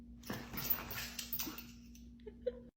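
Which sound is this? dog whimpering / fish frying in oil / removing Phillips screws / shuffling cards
dog whimpering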